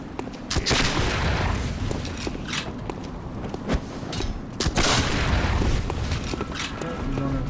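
Enemy gunshots in Bloodborne's Cathedral Ward, several sharp cracks scattered over a dense rumbling, clanking game soundscape, with one loud burst near the middle.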